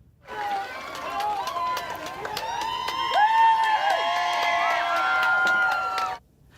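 A crowd in New West Valley, Newfoundland, cheers, whoops and shouts to welcome home seven rescued fishermen, a steady, lively roar of many voices with children's shrieks mixed in, sustained for several seconds before cutting off.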